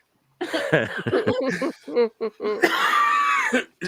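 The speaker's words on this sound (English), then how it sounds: "I am still coughing." Several short, harsh coughs and throat sounds come in bursts, mixed with laughter-like breaths, close to the listener.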